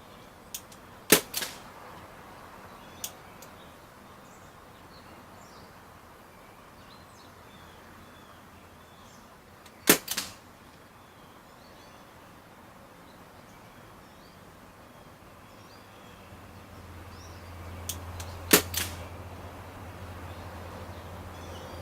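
Three suppressed shots from a Crosman 1077 air rifle fitted with a silencer, sharp muffled cracks spaced several seconds apart outdoors, the last two coming close together, over faint rustling and distant birds.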